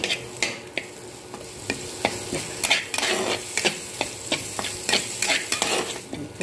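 Spices and mashed green peas stirred and roasted in a pan for a Hindi-style matar nimona, with repeated sharp scraping strokes of the spoon over a steady low sizzle, close and fairly loud, no voices.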